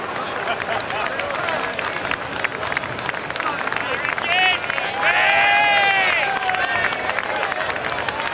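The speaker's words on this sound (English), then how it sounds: "the applause ringing round me now for Richard Johnson on One Night." A racecourse crowd applauds and cheers after a steeplechase finish, a broad roar of clapping and voices beneath a commentator talking over it, with whistle-like tones rising briefly in the middle.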